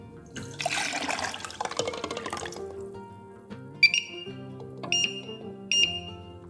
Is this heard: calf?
no